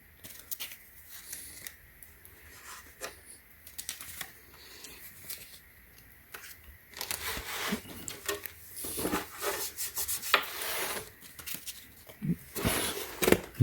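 A stone bath mat rubs and scuffs across a tile floor in close, dry gritty strokes, quieter at first then louder and denser scraping in the second half, with no talk.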